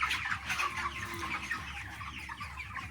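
A flock of about a thousand 26-day-old broiler chickens on a farm gives off dense, overlapping clucks and chirps, a busy nearby chatter that runs without pause and has no speech in it.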